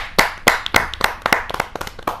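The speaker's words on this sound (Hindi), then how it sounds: "मैं उस प्रशांत अवस्थी प्रखर को आमंत्रित करता हूं जोरदार तालियों के साथ।" Audience clapping for a poet at a kavi sammelan poetry gathering, sharp distinct handclaps coming at an uneven rhythm from a small group nearby, with no talking.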